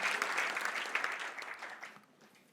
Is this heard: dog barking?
no